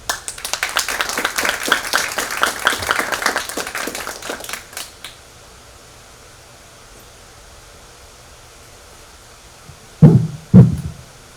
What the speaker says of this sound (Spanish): Por favor, reciban con un fuerte aplauso